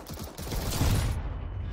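Counter-Strike: Global Offensive gunfire, a rapid burst of automatic shots that fires steadily and then tails off, fairly faint in a game mix with no talk.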